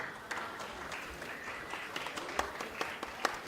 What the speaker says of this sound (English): Spectators, please, big applause for Ana Rončević.